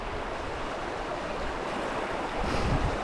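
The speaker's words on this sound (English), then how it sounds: "Going across the stream, well, the Cobb River." Boots wade through the flowing water of the Cobb River, a stream crossing on a rainy solo hike, under a steady, close rush of water and wind noise across the whole stretch, with a slightly louder surge near the end.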